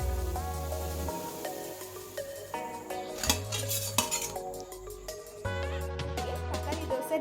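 Metal utensils clink and scrape against a pan and plate as a tomato dosa is lifted off and transferred, several sharp clatters over background music.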